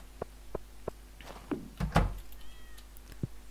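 A cat in the Stardew Valley farming game gives a short meow among a few soft game thumps and clicks, fairly close and clear, with no talking.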